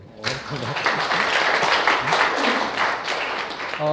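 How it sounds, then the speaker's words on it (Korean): Audience at a lecture on the Analects breaking into applause, a dense burst of clapping that swells quickly and holds steady for several seconds, with a speaker's voice faintly under and around it. "이 정답 맞추는 박수 한번 해주세요"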